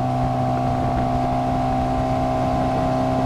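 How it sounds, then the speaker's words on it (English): A 1997 Bayliner 1950 Capri's small 4-cylinder engine drones steadily under way on the water, with constant hum and wind noise throughout. "a little 4-cylinder engine,"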